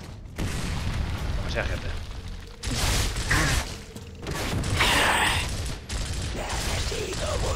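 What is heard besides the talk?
gunfire in the video game Gears of War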